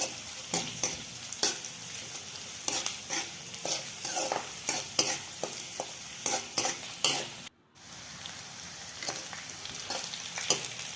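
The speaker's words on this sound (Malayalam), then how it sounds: "ചെറിയ ഉള്ളി ഒരു ബ്രൗൺ കളർ ആകുന്നത് വരെ ഒന്ന് വഴറ്റണം" Chopped small onions sautéing in oil for a chickpea curry, with a steady broadband sizzle and repeated scraping stirs of a spoon against the pan; a brief silent gap falls near the end before the frying resumes.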